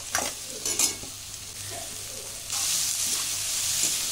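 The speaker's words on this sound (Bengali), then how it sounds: "দিয়ে দিচ্ছি সেদ্ধ করা বাঁধাকপি আর গাজর" Boiled cabbage and carrot tipped into hot oil with onion, ginger and green chilli in a kadai. Two stirring clatters come first, then the sizzle jumps louder and holds steady until the end.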